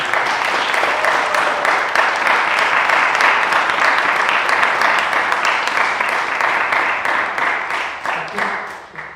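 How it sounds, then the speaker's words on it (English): A large audience gives loud, dense applause for four conductors, sustained for most of the stretch before gradually thinning out at the end. "can we get one more round of applause for all these four amazing conductors?"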